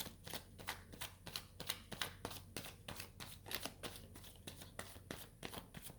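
A deck of tarot cards is shuffled in steady, rapid riffles, each crisp papery burst repeating about three times a second at close range, with no voices over it.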